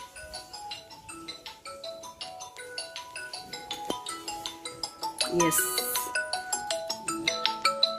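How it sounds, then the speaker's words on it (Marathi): A mobile phone rings with a bright, melodic electronic ringtone for an incoming call from a dental clinic, repeating its tune close by and growing louder, with a brief spoken word cutting in partway. "एक मिनटं बहुतेक क्लिनिकमधनंच फोन आहे"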